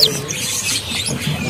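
Small caged birds chirp at a busy Indonesian bird market where swiftlets and other birds are sold, with brief high tweets over a steady crowd murmur.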